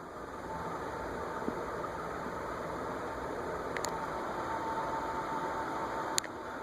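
An Airmaster B36 36-inch industrial ceiling fan running at medium-high speed, a steady soft whooshing hum with a faint constant whine and two brief clicks, no talking.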